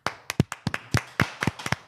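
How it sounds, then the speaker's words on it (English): A single person claps by hand, about nine sharp, close claps in an irregular but fairly quick rhythm, with no one speaking. "Analog clap"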